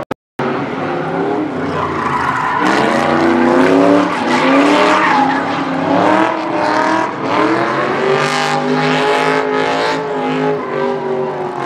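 Tires squeal loudly and continuously as a car drifts with its engine revving hard at the SEMA show, sustained and close with wavering screeches.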